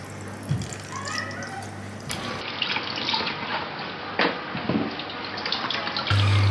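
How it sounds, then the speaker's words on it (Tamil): Boiled water with jalapeño chilies is strained and poured into a jar, giving a steady trickling, splashing stream with a few brief knocks, close and moderately loud, with no talk over it. "இது ஜலப்பினோட வாட்டர், இது பாயிலான வாட்டர். அதில் பாருங்கள் சில்லி இருக்குது. நான் அதை வடிகட்டி இதில் ஊற்றிக்கிறேன்."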